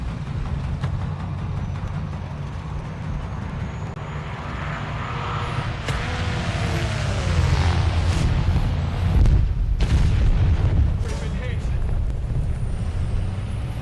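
Bombs bursting in War Thunder, a combat flight game, with a broad rumbling blast around the middle and another heavy burst shortly after, set over steady engine drone and game noise while a person talks.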